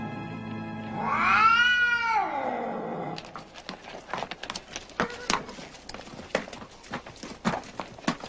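A cat gives one long, loud, drawn-out meow lasting about two seconds, followed by irregular thumps, clops and rustling movement.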